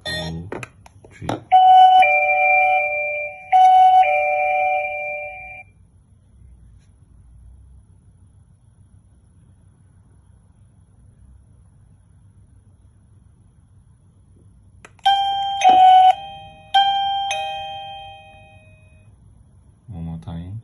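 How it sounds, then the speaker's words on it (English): An SCT smart doorbell chime rings out in loud, clear tonal bursts: two rings near the start and two more later, each ringing on briefly, with quiet stretches between them. "So the chime is successfully paired."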